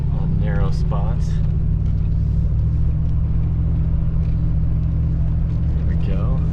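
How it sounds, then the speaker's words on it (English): A 4x4 van drives down a narrow road toward a campsite, its steady low engine rumble and road noise constant throughout, with people talking over it in the cabin. "A little bit more of this narrow road we're driving down to get to our campsite."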